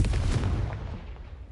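The Confringo explosive spell in Hogwarts Legacy goes off as a single loud, deep blast, its booming rumble fading over about a second.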